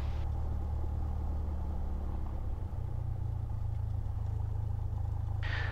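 A training aircraft's engine idles steadily at 1000 RPM, a continuous low droning rumble that stays close and constant, with a brief higher click near the end and no talking.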